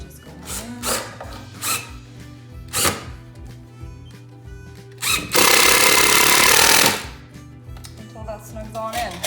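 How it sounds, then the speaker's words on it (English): A power drill drives 2-inch screws into wood trim: a few short bursts, then one loud sustained run of about a second and a half, close by with no talk over it. "I'm going to go ahead and drill. Take some 2-inch screws again"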